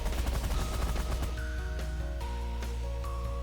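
A minigun fires in The Last Federation, a rapid, dense rattle of shots that runs continuously and loudly, with electronic tones and effects layered on top.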